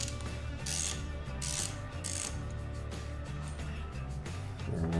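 A ratchet clicks steadily as it loosens a T25 Torx screw on a Harley-Davidson handlebar grip, quick repeated pawl clicks heard close up with no talking.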